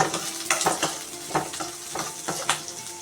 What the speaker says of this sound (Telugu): ఇది పచ్చి వాసన లేకుండా ఉండేనట్లు ఫ్రై చేసుకోవాలి